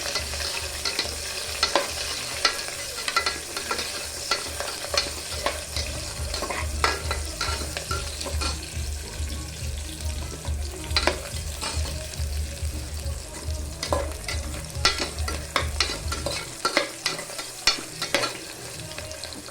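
Onion frying in hot oil in a pan while an anchina papu (lentil dish) is cooked over a low flame, with steady stirring scrapes and clinks over a continuous soft sizzle, close up with no voices.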